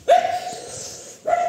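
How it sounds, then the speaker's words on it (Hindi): Dogs bark outside during a morning walk with a pitbull: two sharp, loud barks, the first drawn out, the second following after a pause. "थोड़े से बाहर सर कुत्तों का भोंकड़ा भागड़ा चालू हो गया"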